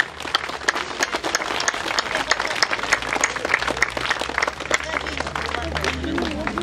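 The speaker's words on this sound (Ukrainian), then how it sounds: "Давайте ми нашими аплодисментами підтримаємо наших героїв, які захищають країну." Applause from an audience cheering for soldiers defending Ukraine, a dense steady clatter of many hands lasting throughout, with a murmur of crowd voices mixed underneath.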